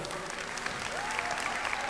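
An audience at a Japan Expo gaming event breaks into dense, continuous applause that stays at an even level throughout, heard from within the crowd.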